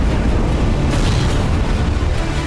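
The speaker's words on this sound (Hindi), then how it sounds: "घातक मिसाइलों और ग्लाइड बमों के हमलों से धरती को दहलाया" Israeli missile and glide bomb strikes hit residential buildings in Lebanon, producing a continuous, loud, rumbling roar of explosions. The heavy blast noise fills the whole stretch, with no voices.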